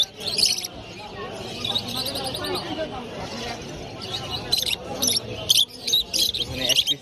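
Local farm-bred birds calling at a crowded bird fair, sharp repeated chirps and tweets near and loud, bursting in clusters over a babble of people talking.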